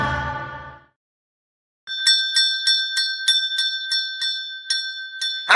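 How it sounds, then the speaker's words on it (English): Small bell struck repeatedly, about a dozen bright ringing hits in an uneven rapid rhythm after a short silence, close and clear with no speech over it. "How many times is he going to hit that damn bell?"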